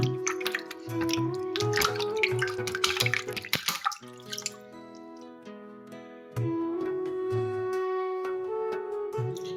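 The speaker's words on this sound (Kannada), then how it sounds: "ಇದೇ ನೀರು ಈಶ್ವರನ ಮೇಲೆ ಹನಿ ಹನಿಯಾಗಿ ಅಭಿಷೇಕ ರೂಪದಲ್ಲಿ ಬೀಳ್ತದೆ" Water drips drop by drop inside a dark cave shrine, falling onto a Shiva idol near a waterfall. The drops land at a steady rhythm, clear and close, with resonant tones ringing through the space.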